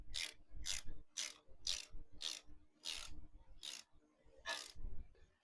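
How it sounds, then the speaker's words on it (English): Ratchet clicking in quick bursts while snugging down thermostat housing bolts on a Chevy S-10 with a 350 V8 swap, about eight sharp, close ratcheting strokes in an uneven rhythm, with no talking. "We're gonna tighten it down until it touches base."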